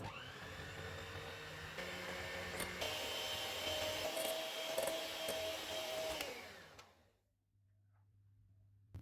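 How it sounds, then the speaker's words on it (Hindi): An electric mixer whips a cup of whipping cream with sugar, a continuous whirring hum with a slightly rising tone that runs steadily for about six seconds, then winds down and stops, leaving near silence. "मैंने 1 cup whipping cream with sugar ली है। इसको व्हिप करेंगे।"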